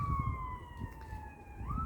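An emergency vehicle siren wails outdoors in a smooth, sweeping tone, swelling steadily over low traffic rumble and ending on a rising pitch, with no talking.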